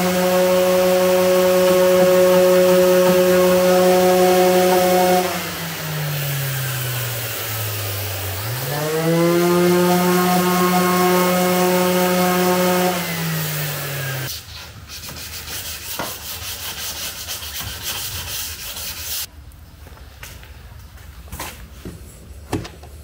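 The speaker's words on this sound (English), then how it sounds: "This needs some sanding." A power sander whines loudly and steadily on wood, dipping in pitch as it bears down, then gives way to rougher scraping and rubbing noises.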